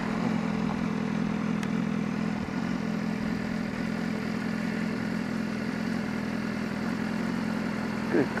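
A BMW S1000RR sportbike engine runs with a steady, loud mid-range drone throughout, heard close from the rider's position with little variation in pitch.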